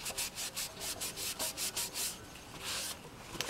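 Rag rubbing paint off a wooden surface in a folk art painting session, brisk rhythmic back-and-forth swishes close up, then a longer steady wipe, with no speech.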